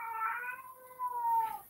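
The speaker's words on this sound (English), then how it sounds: "That's my cat in the background." A house cat lets out two plaintive, wailing meows in the background indoors, one right after the other, moderately loud with no voices over them.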